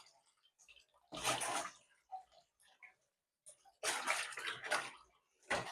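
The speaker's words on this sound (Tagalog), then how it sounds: "Hugasan natin yung pak choy." Pak choy being washed in water: two long splashing, rushing water bursts separated by quieter drips and handling noises, close and fairly soft.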